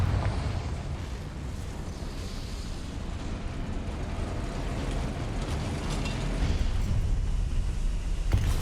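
A Confringo blasting spell in Hogwarts Legacy sets off a rumbling, roaring explosion-like wash of low noise that holds steady throughout with no talk.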